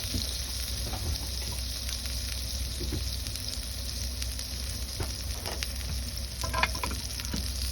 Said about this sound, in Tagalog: Nakulo-kulo sa sizzling plate.